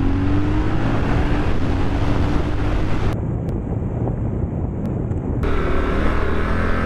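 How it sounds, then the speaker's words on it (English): Heavy wind buffets the microphone while riding a 2023 Triumph Scrambler 1200XE, a loud, constant roaring rush with engine rumble underneath, briefly dropping in brightness midway and with no voices. "I'm getting blasted by the wind."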